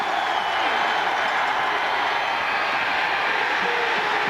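Steady crowd noise from football fans at a 1996 Auburn at Mississippi State game rises as the Bulldog home supporters cheer near the 10-yard line, a broad continuous roar holding at the same level throughout without a break.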